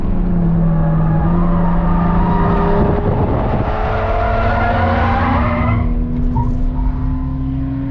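A race car spins off the track into the grass during a track day, its engine droning loud and steady with tires scrubbing and skidding, the pitch shifting as the car slides before settling into a lower rumble.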